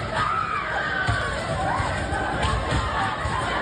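A dense crowd shouts and yells continuously during a night of urban riots, many voices overlapping into a loud, agitated roar at a distance.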